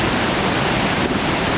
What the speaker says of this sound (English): this is the same waterfall that we were looking at from a distance